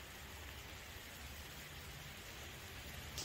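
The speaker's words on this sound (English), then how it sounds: "this looks like it's starting to rain a little bit harder" Rain starting to fall outdoors during an October storm, a faint, steady hiss of drops on surfaces with no voices.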